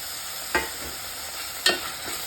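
Tomatoes sautéing in a pan, with a soft continuous sizzle and two brief scraping stirs of a spoon, close and fairly quiet.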